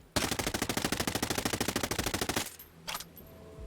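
SMG in Ghost Recon Breakpoint emptying a full magazine with the compensator removed: one unbroken, rapid string of loud, evenly spaced shots lasting over two seconds, then a brief mechanical clack and quieter handling noise afterward.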